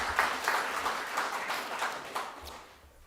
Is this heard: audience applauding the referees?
yes